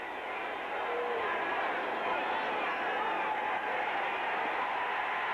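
Steady roar of a football stadium crowd cheering at a 1984 Giants versus Rams NFL game in Los Angeles, a dense, sustained wall of voices filling the whole clip at even loudness.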